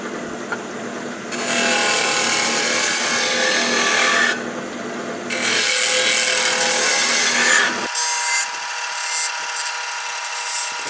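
A sharpened carbide cutter bites into wood in bursts of loud, rasping grinding, the steady cut stopping and restarting twice before giving way to a lighter, thinner scraping at the end.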